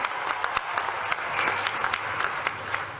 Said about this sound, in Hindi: आप भी तालियां बजा के स्वागत कीजिए, अभिनंदन कीजिए।